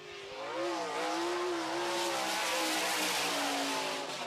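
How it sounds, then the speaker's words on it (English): A sprint car at speed during time-trial qualifying, the engine note rising and sweeping as it pushes down the back straightaway, loud and sustained at close range with a hard, buzzing roar. "Next car pushing onto the back straightaway to qualify"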